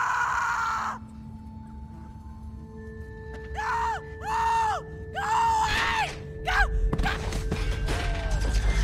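A girl screams repeatedly in The Walking Dead video game, rising and falling wails in several bursts set against a low steady drone, with a final sharp cry near the end.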